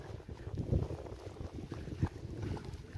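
Wind buffeting the microphone over rushing water on the Tetulia river, a continuous low rumble and roar that rises and falls, with no voices.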